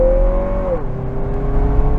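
A 2022 Lexus NX 350 F Sport crossover accelerating as it pulls out, a close, loud engine drone whose pitch holds, dips, then climbs steadily, with no talk.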